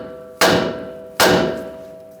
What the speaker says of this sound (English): If not, just use a hammer.